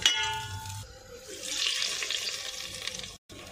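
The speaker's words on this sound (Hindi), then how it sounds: "कसूरी मेथी भी मैंने इसमें डाल दी है, अब इसे गोश्त में पलटी कर लेंगे।" A hot onion and kasoori methi tempering is poured into mutton gravy, giving a loud hissing sizzle with pan clatter that fades to a continuous bubbling fry before a brief cut.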